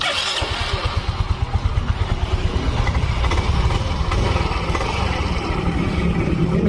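Yamaha Mio M3 scooter fired up with its electric starter; the engine catches quickly and settles into a loud, close, steady low throbbing pulse with no talk.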